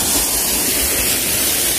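A waterfall and running water near a tunnel in a water-rich spot in Rio de Janeiro state give a loud, steady broadband rushing roar that fills the whole stretch without breaks or speech.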